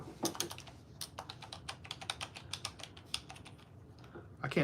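Fingers type on a computer keyboard in quick, irregular bursts of close, light key clicks, with a short pause midway and a faint voice at the edges.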